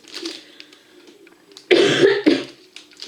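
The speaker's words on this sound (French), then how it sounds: "Rien que de tousser, ça me fait mal à la tête." A burst of harsh coughing from a sick woman, loud and close, two or three hacking coughs in quick succession after a quiet stretch with faint background sounds.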